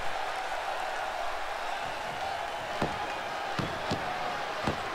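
A belly to belly suplex lands in the WWE 2K20 video game, with a few sharp thuds of wrestlers hitting the mat over a constant roar of arena crowd noise.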